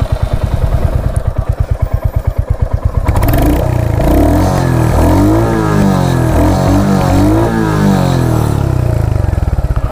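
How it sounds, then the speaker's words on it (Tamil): A Royal Enfield Hunter 350 motorcycle engine cranks with a rapid rhythmic chugging, fires up and settles into a loud, close, steady idling thump with slight revving. "என்ஜின் ஆன் பண்ணியாச்சு, உடனே இப்போ ஸ்டார்ட் பண்ணி காமிச்சிடறேன் எப்படி இருக்குது அப்படின்ட்டு பார்ப்போம்."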